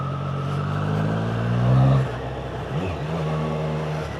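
A motorcycle fitted with a performance exhaust accelerates, its engine note climbing to a louder peak, dropping briefly as if shifting, then droning steadily again, close by with no talk.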